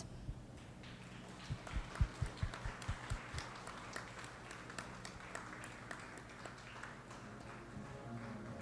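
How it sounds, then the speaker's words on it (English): An audience at a college event in Mumbai applauding achievers, with a rhythmic, fairly distant clapping that is loudest early on and then thins to scattered claps over a steady room hum, with no speech. "Please give the achievers a loud round of applause."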